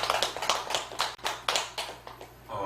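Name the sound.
applause, clapping for the people in the temple hall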